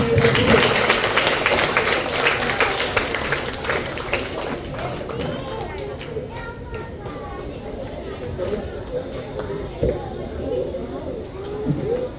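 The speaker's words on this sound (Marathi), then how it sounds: "सर्वांनी टाळ्या वाजवायच्या आहेत." A crowd at a school annual prize ceremony claps together, dense and loud at first, then fading into scattered claps and murmuring voices.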